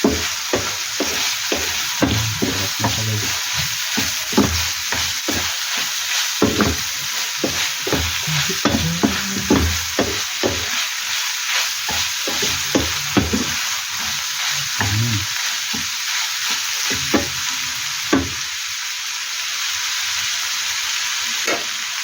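Mushrooms sizzling in a frying pan while cooking for spaghetti, a steady close hiss broken by repeated scraping and clacking as the pan is stirred.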